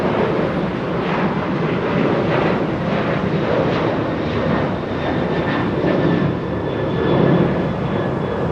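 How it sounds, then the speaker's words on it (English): An Emirates Boeing 777 on its takeoff roll from runway 24 left at Los Angeles International Airport, a loud sustained jet engine roar with a faint whine running steadily throughout, no talking. "Emirates 216 already lined up on 24 left. We'll be getting a move on any second"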